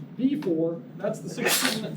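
A single sharp sneeze erupts close by in a classroom, set among ongoing talk from an instructor.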